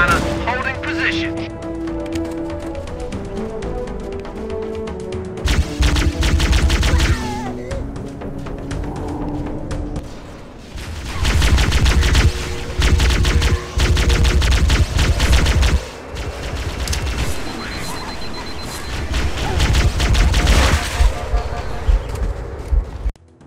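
Stationary guns in the video game Halo: Combat Evolved fire in long, loud bursts of rapid gunfire, broken by short pauses, with dense explosive battle noise throughout.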